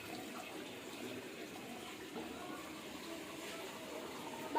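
Water running from a tap as a child fills a container while playing with a new toy, a steady faint splashing and trickle throughout with household background noise.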